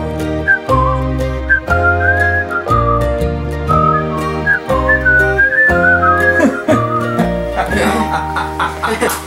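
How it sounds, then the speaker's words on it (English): A man whistles a bright melodic tune with wavering, slightly sliding notes over a musical-theatre accompaniment of piano and bass, ending with a brief chuckle. "And whistle."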